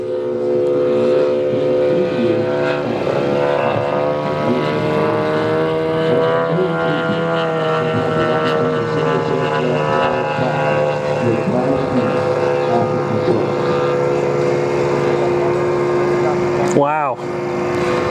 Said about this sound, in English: It is one loud airplane.